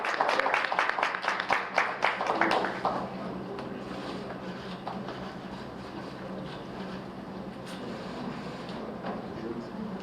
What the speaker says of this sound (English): please welcome Minister of Foreign Affairs Dr. 钊燮Joseph Wu and AIT Director Sandra Walker with a warm round of applause